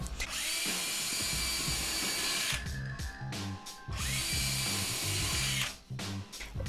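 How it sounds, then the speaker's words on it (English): Power drill boring pilot holes into wood for a floating wall shelf box, two long high-pitched whirring runs separated by short pauses and brief bursts, loud and close. "Next, I drilled holes in the sides, added the wood, and then pre-drilled that as well."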